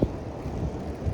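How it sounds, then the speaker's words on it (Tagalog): Strong sea wind at Stanley Park in Vancouver batters the microphone, a short steady low roar with a few thumping gusts and no talking. "Oh, grabe hangin."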